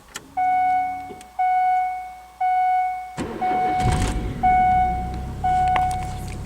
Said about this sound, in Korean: 엔진 시동 한번 걸어볼까요? 시동 소리도 괜찮아요.